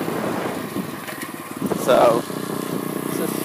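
An SSR pit bike engine drones at riding speed, nearly flat out. A steady motor hum runs under a voice and swells briefly in the middle.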